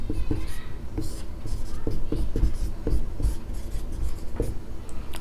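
Pen or marker strokes during a Hindi-medium class 9 geometry lesson on triangles, a steady run of scratchy writing over about five seconds with soft rubbing between strokes, fairly close and moderately loud.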